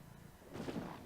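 Laser and slug cannons fire in a space battle in the strategy game Endless Space 2, a faint low rumbling boom swelling over about a second beneath a soft background hum.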